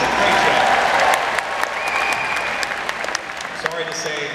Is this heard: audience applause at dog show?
yes